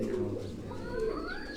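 A racing pigeon cooing up close, giving a soft, low, rolling call over a steady background murmur, with a brief thin, rising sound near the end.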